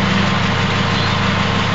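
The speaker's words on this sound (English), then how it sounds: "My engine right now is running on idle, and it's running just by this vaporizer" A car engine idles running only on a fuel vaporizer, a loud, steady, even rumble throughout.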